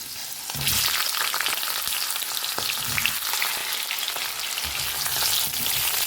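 Potatoes sizzle and fry in hot mustard oil tempered with cumin seeds, bay leaf and dried red chili, a loud, steady crackle close by with occasional stirring thumps and no voices.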